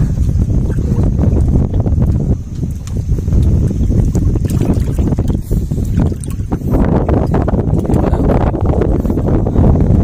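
Strong wind gusting over open sea during shellfish gathering, a loud, steady roar of buffeting and rushing air with water splashing beneath, continuous throughout.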